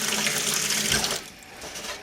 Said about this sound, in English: I'm putting a little bit of water in the pan.